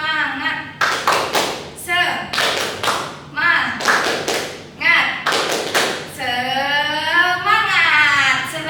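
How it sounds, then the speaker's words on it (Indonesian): An Indonesian classroom group does the tepuk semangat clapping chant: bursts of rhythmic hand claps alternate with voices chanting together, ending in a long shouted group call. "Kita harus tepuk semangat dulu ya."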